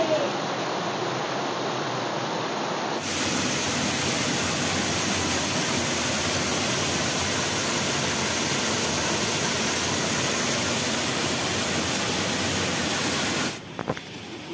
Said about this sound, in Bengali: টেন্টের সামনেই রয়েছে ঝর্ণা